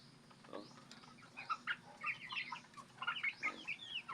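Rhode Island Red chicks nearly two months old cluck and peep in a loose, overlapping stream of short calls near a feeding area, with faint wing movement and no voices.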